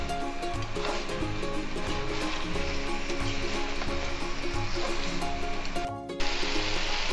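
Mutton karahi sizzling over a high flame in a Shinwari-style pan, a steady loud crackle and hiss that continues throughout with no talking.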